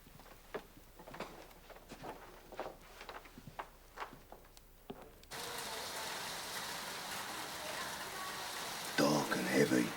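Heavy rain falls at night as a dense, steady hiss that swells in suddenly partway through, following a stretch of sparse ticking and tapping.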